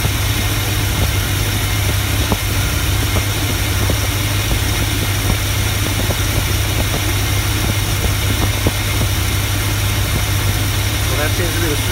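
A Chevrolet 350 V8 with a swapped-in Edelbrock carburetor, in a square-body truck, idles steadily and loudly up close, holding an even low rumble for the whole stretch.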